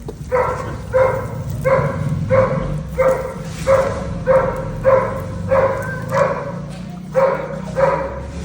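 A dog barks repeatedly in a steady rhythm, about ten loud barks spaced roughly a second apart, close by over a low background rumble, while holding a large cobra at bay.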